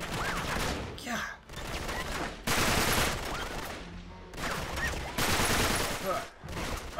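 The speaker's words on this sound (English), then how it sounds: "Oh man, I'm getting shot from behind." Rapid bursts of gunfire in the video game Uncharted 3, loud and dense in several repeated volleys with brief gaps, mixed with game voices and a player's exclamations.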